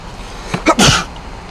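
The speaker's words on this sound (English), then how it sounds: "Did you just sneeze on that?" A single sharp sneeze bursts out close by at a drive-thru after a brief inhale, loud and abrupt, with no talking around it.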